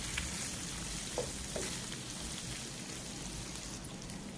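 Onions frying in a pan for a mixed vegetable kurma, a faint, steady sizzle and crackle with a few small pops and light stirring throughout.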